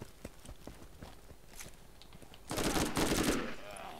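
Rapid bursts of weapon fire from the video game Borderlands, scattered shots early on, then a loud dense volley in the second half.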